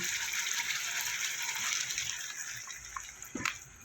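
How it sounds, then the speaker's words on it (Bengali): Water gushes into a pan of spiced fried potato and pointed gourd, a close rushing pour that tapers off, followed by a few sharp splashes and sizzles near the end. "পটল আলুটা আমার কষানো হয়ে গেছে এবার আমি দিয়ে দেবো জল"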